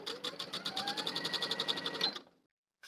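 Home sewing machine stitching a skirt pocket flap with a 1/4 inch seam, a fast steady rhythmic whir of needle strokes running close and loud for about two seconds, then stopping to silence.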